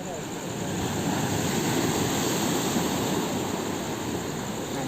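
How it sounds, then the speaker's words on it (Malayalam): Strong sea waves at Kanyakumari roar on the shore in a dense, continuous rush, loud and close, with wind buffeting the microphone. "നല്ല ശക്തിയായിട്ട് തന്നെ തിരയടിക്കുന്നുണ്ടായിരുന്നു"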